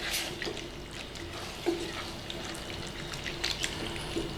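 Chopped canned tomatoes are stirred in a pan, giving quiet, wet squelching and sloshing with a few light clinks against the pan.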